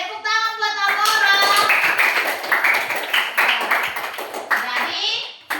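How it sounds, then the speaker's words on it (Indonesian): Children clap together in a classroom during a lesson on plant parts, a dense burst of hand claps that runs through the whole clip, with a voice rising over it near the start. "Tepuk tangan buat Mimi."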